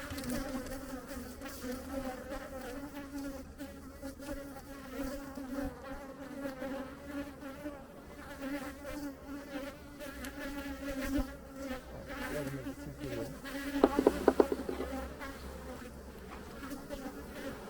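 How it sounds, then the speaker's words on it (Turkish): Honey bees buzz continuously in a droning hum, with a brief sharper flurry of agitated buzzing and knocks partway through as bees are shaken off a hive frame. "Şimdi buraya bir tane de arı silkeleyeceğim."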